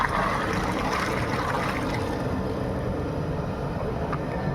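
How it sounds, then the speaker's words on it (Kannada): Water pours steadily into a large pot of tamarind for a big batch of rice bath, a loud, dense rushing gush that runs continuously and alone. "ಹುಣಸೆ ಹುಳಿ ನೋಡಿ ನೀರು ಹಾಕ್ತಾವ್ರೀಗ"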